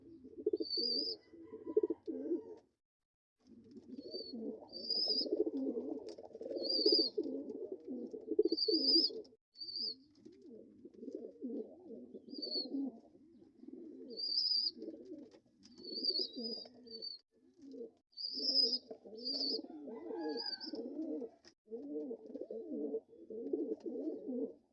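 Pigeons cooing close by in soft, repeated throaty phrases with brief pauses between them, accompanied by faint higher chirps from small birds, with no talking.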